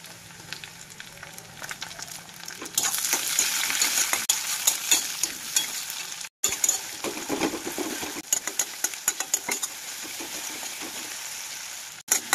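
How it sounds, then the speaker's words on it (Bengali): Onion, tomato and chopped green chili frying in a pan, a loud continuous close sizzle with scattered stirring clicks, a brief break partway through, and no talking. "পেঁয়াজ আর টমেটোটা বেশ ভাজা ভাজা হয়ে গেছে"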